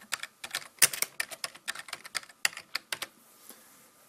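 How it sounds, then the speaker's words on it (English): Fingers tapping out text on a computer keyboard, a quick, irregular patter of close, crisp key clicks with brief pauses, heard alone without any talk. "then we're going to type our text in"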